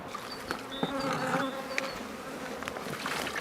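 Steady buzzing of honeybees near vineyards in Correns, France, a dense droning hum with individual bees passing close by now and then.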